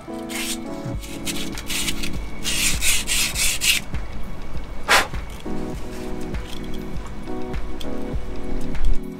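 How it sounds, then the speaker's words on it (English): Emery cloth rubbing a small split pin from a sailing sheet winch, repeated close scratchy strokes in uneven bursts with light clicks and knocks between them. "So I've just got a little bit of emery and I'll just clean up this little pin here."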